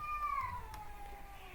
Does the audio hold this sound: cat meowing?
yes